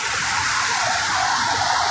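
Flood water rushing past after heavy rain, a loud, steady roaring gush with no breaks, close by and with no talking.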